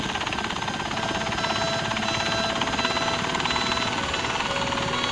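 A helicopter in flight, heard as a steady, loud whirring rotor and engine drone that holds constant for the whole stretch with no talk over it.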